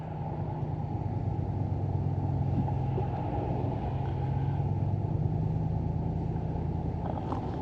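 A steady low rumble of idling road traffic waits at a railroad crossing blocked by a stopped train, the engine drone constant and close with no clear events.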